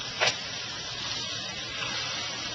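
Bacon sizzles on a DCS Liberty gas grill under a grill press, a steady broadband hiss with a brief sharper crackle near the start, close and moderately loud with no talking.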